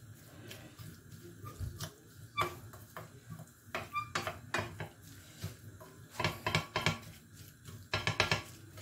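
Vegetables for a bourek filling are stirred in a pan, with repeated close scraping and clinking of a utensil against the pan in irregular bursts, moderately loud over a quiet background.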